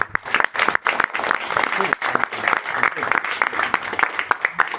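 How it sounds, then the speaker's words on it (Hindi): An audience at a business seminar breaks into lively applause, close, crisp claps from many hands in an uneven rhythm lasting a few seconds. "एक बार ताली अपने लिए बजा सकते हैं"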